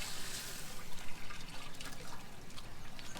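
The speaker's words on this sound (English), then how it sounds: "you should have a little bit of hose you can carefully open this up and run some fresh water down there" Fresh water runs steadily down a hose at an RV dump station, a soft continuous rushing trickle, fairly quiet, with no talk.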